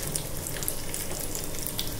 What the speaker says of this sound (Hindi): लो फ्लेम पे मैं यहाँ पे ड्राई फ्रूट्स डाल दूंगी और इसे भून लेंगे